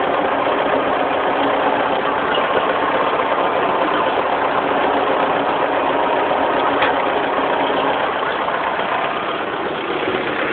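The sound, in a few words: 1974 International 2400A tractor engine running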